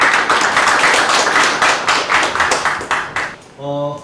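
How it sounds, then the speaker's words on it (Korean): Seminar audience applauding the forum's steering committee chair at an open data seminar on medical data, a loud, steady burst of close clapping lasting several seconds before dying out. "큰 박수로 부탁드리겠습니다"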